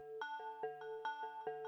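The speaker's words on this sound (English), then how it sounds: "There is an arpeggiator playing here that makes some FM bell kind of sound." Modor NF-1k synthesizer arpeggiator playing a bright FM bell-like patch, quick repeating notes in a steady bouncing pattern, clear and fairly soft with no voices.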